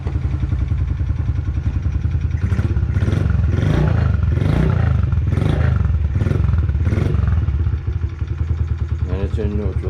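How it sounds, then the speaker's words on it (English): A Honda CRF50F small motorcycle engine idles in neutral while warming up, a close, steady, loud putter with rhythmic clattery pulses that swell and settle across the whole stretch. "let that warm up, and I'll take it off choke and she'll be ready to ride."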